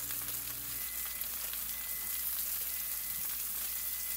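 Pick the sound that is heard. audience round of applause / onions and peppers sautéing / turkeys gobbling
onions and peppers sautéing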